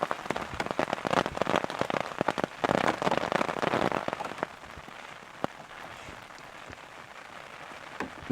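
Rain falls outdoors on a Texas beekeeping homestead, a steady patter with irregular louder drops striking a surface nearby, heavier at first and then settling into a softer, even hiss.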